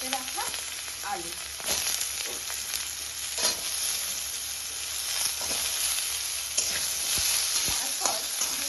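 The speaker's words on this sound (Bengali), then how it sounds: "তারপর 2 থেকে 3 মিনিট এটাকে একটু ভালোভাবে ভেজে নেব।" Diced potatoes with black cumin and green chili sizzle and hiss steadily in a pan, close up, with occasional scraping of a utensil stirring them.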